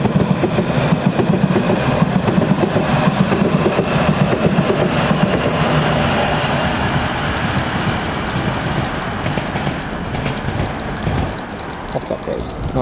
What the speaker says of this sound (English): And swiftly after we've got another District Line train,